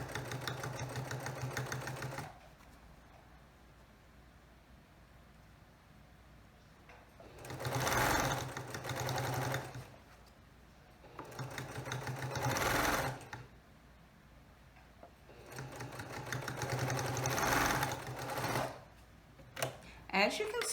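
A sewing machine stitches binding around the curved armhole of a pillowcase, running in three or four bursts of a few seconds each, with quiet pauses between them.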